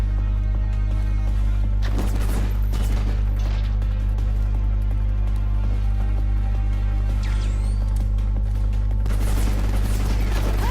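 Assault rifle gunfire and exploding barrels in the video game Final Fantasy XV, loud dense battle noise with a constant heavy low rumble and several bursts of blasts and impacts.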